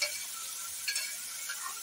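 Broken wheat porridge (dalia) going on to cook in a home kitchen, giving a soft steady sizzle and faint stirring scrapes close by, with no voices.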